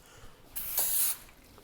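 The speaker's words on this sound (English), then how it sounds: "just give it a nice spray." A single short hiss of baking cooking spray onto a pan, about half a second long, close and fairly loud against a quiet room.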